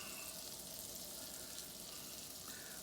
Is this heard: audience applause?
no